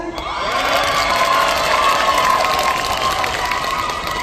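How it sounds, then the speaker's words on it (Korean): A concert audience at a trot singer's show erupts in cheering, shouting and applause, a loud sustained roar of many voices with clapping mixed in that holds steady throughout. "여러분들께서 박수와 함성을 보내주신 겁니다"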